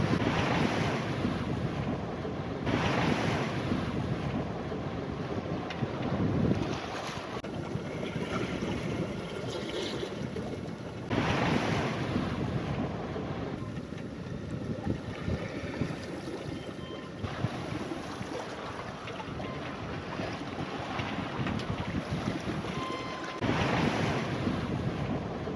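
A sailboat sails through waves on the Thames Estuary on an evening run home. Steady wash of water and hull noise runs under heavy wind buffeting on the microphone, loud and continuous throughout.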